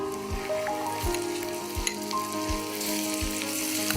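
Chopped onion sizzling in a hot pan, a loud, steady frying crackle with regular soft knocks of stirring and a faint melodic tone running underneath.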